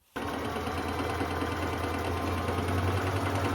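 A sewing machine stitches a straight seam down the side of a thrifted skirt. It starts abruptly and then runs as a close, steady, even motor hum with rapid needle rhythm.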